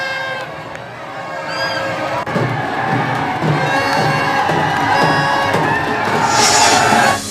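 Dense festival crowd roaring and cheering at a 150-year-old bullock-cart-pulling (baragadya) procession in Maharashtra, a continuous loud wash of voices with shouts rising throughout.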